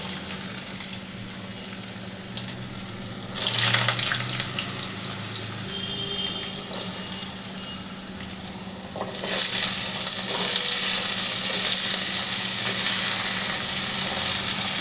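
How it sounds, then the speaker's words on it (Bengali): Potatoes dropped into hot oil for vegetarian alu posto, a steady hiss that suddenly grows louder and bright as they hit the pan, then a second, stronger surge of sizzling that holds. "এবার আলুগুলো এতে আমি ছেড়ে দিচ্ছি।"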